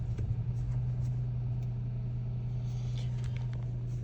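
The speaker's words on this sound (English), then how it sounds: "Okay, we're gonna start the car." A car engine runs at a steady idle, a constant low hum with no change in pitch, close and moderately loud, alone without talk.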